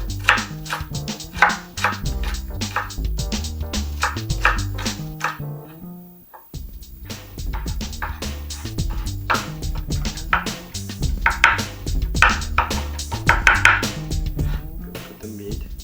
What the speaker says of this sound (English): Make sure you chop all the onions into small pieces as well.